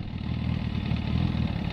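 A Kawasaki ZZR 400 motorcycle engine runs steadily nearby after gearbox repair, a low, chugging rumble, fairly quiet and even, no voices.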